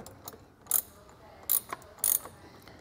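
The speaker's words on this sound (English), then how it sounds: "Place our ring terminal over top of that and reinstall the nut." Ratchet wrench reinstalling a nut over a wiring ring terminal on a 2022 Ford Maverick, three short, sharp clicking bursts spaced apart over a quiet background.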